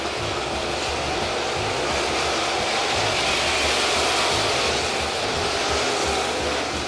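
Dirt late model race cars at a speedway warm up together, a dense, steady roar of engines filling the air at constant loudness with no letup throughout.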